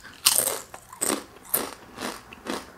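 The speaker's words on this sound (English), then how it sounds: "These are really kettle cooked. Like, y'all hear that crunch?" Crunchy barbecue kettle-cooked potato chips being bitten and chewed up close, five loud crisp crunches in an uneven rhythm with quiet pauses between.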